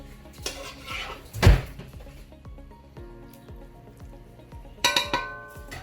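Chicken biryani stirred in a pot, with scraping, clinking of a metal spoon against the pot walls and soft squishy movements, including one louder clank early on, close and alone.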